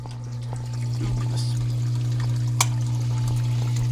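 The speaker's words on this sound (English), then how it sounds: "there's the sump return right there, which gives off a bunch of flow" Water from the sump return of a home saltwater aquarium pours and trickles steadily over a constant low pump hum, with one sharp click partway through.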